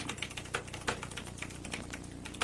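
Fast, hard typing on a word processor keyboard, a steady stream of rapid clacking keystrokes with occasional louder strikes, close and alone with no voices.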